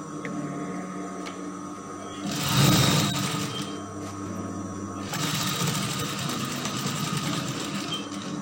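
A sewing machine stitches darts on a brocade dress in bursts, a close, steady mechanical whir that swells loudest in the middle, drops back, then runs again at a constant pace.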